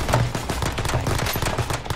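Rapid automatic gunfire in Call of Duty Warzone, dense bursts of shots cracking loudly and continuously with no talk over them.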